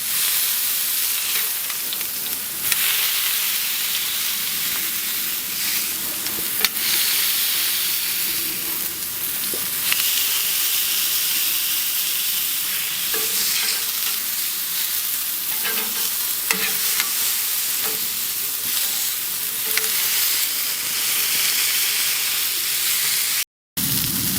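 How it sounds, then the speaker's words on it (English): A smashed burger patty sizzles loudly on a hot surface, a steady dense hiss of frying with spatula scrapes and small pops throughout, up close, and the sizzle briefly drops out near the end. "Get your spatula and just smash it. Nice and thin."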